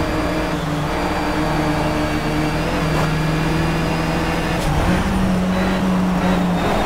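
A Mitsubishi race car's engine drones steadily from onboard in a Project CARS race, its revving pitch bands rising and shifting through gear changes over continuous road-like roar, with no talk.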